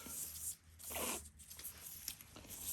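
A measuring tape handled and pulled across a head while marking frontopolar coronal points, giving soft rustling and a zipper-like rasp of the tape drawn out, with a brighter scraping burst near the middle, close and fairly quiet.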